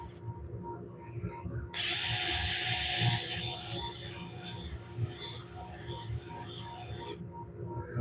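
A carbide tool scrapes lightly over a spinning wooden winged bowl on a lathe, making a steady close hiss for about five seconds over the low hum of the machine.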